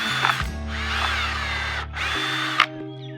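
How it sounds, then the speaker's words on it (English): A power drill whirs steadily for about two seconds, stops, then spins up again briefly with a sharp mechanical click near the end. "Just go ahead and pre-drill."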